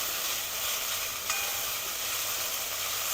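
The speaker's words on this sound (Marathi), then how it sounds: "त्यानंतर आपण जी बारीक कापून घेतलेली मेथी आहे ती घालायची आणि मेथी चांगली परतून घ्यायची।" Chopped fenugreek leaves sauté in a pan with spice paste, giving a steady, close sizzling hiss with no talk over it.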